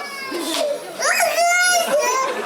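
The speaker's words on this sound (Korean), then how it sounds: "시작하기도 전에 울음을 터뜨리는 아기들도 있다." Babies wail loudly at a crying sumo festival at a shrine in Japan, several overlapping infant cries rising and falling up close amid a lively crowd.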